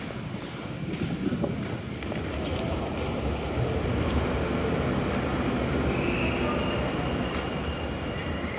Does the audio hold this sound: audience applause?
no